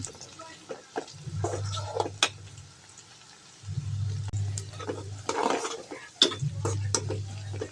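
Onions frying in a pan for a potato fry, a soft sizzle with intermittent stirring scrapes and clinks, bursts of low rumbling activity separated by quieter stretches.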